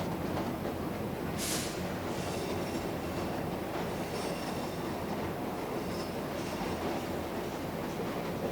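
Railway carriage noise from a scene in the French film La Chambre des officiers, a steady broadband rumble and rattle with a brief high squeal early on, fairly faint and continuous, with no talk.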